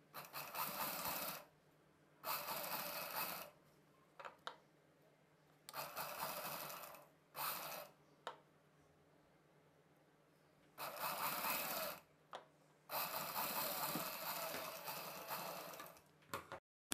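A sewing machine stitches a Peter Pan blouse collar in bursts of close, steady whirring, several runs of a second or two separated by short pauses and light clicks.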